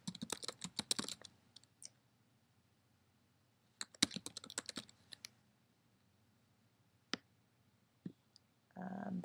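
Computer keyboard typing in short bursts of rapid clicking key presses, separated by pauses, with a few isolated clicks later and a brief louder noise at the very end; no speech.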